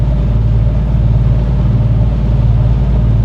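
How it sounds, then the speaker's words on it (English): Steady broadband wind noise and low engine rumble inside a moving Ford Crown Victoria with a manual transmission and very little insulation, loud and constant throughout with no voices. "you can probably hear a little bit of wind noise or whatever"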